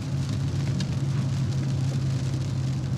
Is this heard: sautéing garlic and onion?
no